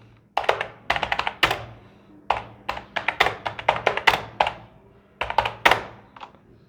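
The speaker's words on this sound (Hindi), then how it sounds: "तो आप देखोगे कि इसमें जो साउंड टाइपिंग का आता है वो लगभग सिमिलर टू मैकेनिकल कीबोर्ड है।" Typing on a Redgear Blaze backlit wired gaming keyboard with mechanical-like keys, heard as close, sharp clacks in quick uneven bursts separated by brief pauses.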